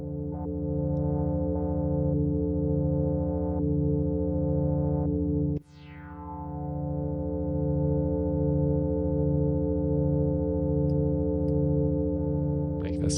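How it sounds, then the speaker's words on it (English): An analog synth in Ableton Live holds a steady sustained tone with a slow rhythmic pulsing from the modulated filter, broken once by a sharp click and sweep midway before the drone resumes. "So what if I modulate the filter a bit on oscillator 1?"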